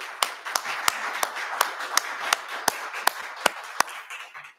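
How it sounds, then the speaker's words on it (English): A church congregation claps in steady unison rhythm for a member during a service, about a dozen sharp, even claps over soft room murmur before stopping. "We're going to offer a little hand clap for Aunt Martha and her coverage of the music"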